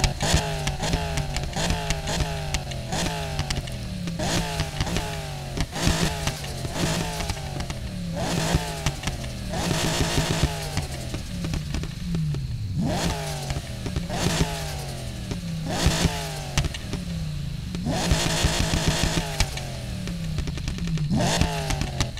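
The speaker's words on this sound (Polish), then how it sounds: "dźwięki samochodów w tej grze wymiatają" Ford Mustang GT 5.0 in Need for Speed Payback, loud engine revving and repeatedly climbing through gears in a video game race, with rising whines, bursts of acceleration and intermittent scraping clatter throughout, no talking.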